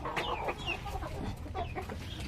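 A one-eyed, blind native chicken clucks in a few short, close bursts over steady farmyard background noise, with no talking.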